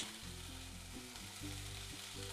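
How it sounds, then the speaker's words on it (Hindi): Chopped ginger and green chili sautéing with onion in a pan for paneer samosa filling, a close, steady sizzle with stirring scrapes and a low pan hum, no talk. "हल्का सा हम सॉटे करके लेंगे"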